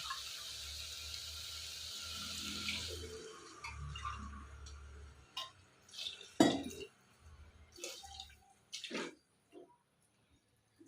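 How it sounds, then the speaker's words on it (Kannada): Water pours into a cooking pot for a sprouted fenugreek rice dish. A soft, steady stream runs for the first few seconds, followed by scattered clinks and light knocks of the vessel in a quiet kitchen. "ಈಗ ಇದಕ್ಕೆ ನಾನು ನೀರು ಹಾಕ್ತಿದ್ದೀನಿ"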